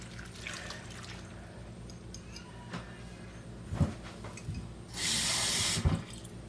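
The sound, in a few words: pouring lemon juice into pot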